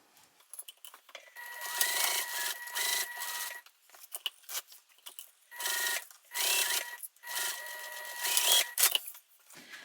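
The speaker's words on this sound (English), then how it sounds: "Sew with the seam allowance given, back stitching at the start and the stop." Sewing machine stitching a zipper pouch, running in short repeated bursts with pauses between them, a close, light mechanical whirring and clatter.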